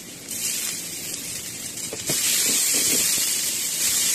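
Parwal pulp and grated chhana fry in a pan, a continuous hiss that grows louder partway through, with a few soft stirring knocks.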